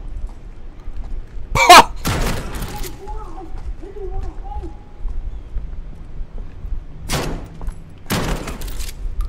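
Video game gunfire in Call of Duty Modern Warfare, with a few sharp shots near the start and two more bursts later, between stretches of quieter game sound and voice chat.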